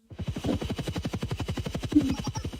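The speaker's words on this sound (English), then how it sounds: "Use a transport helicopter like this just to pick me up." A transport helicopter at an emergency heliport thuds steadily with fast, even rotor chops, loud and close throughout with no pauses.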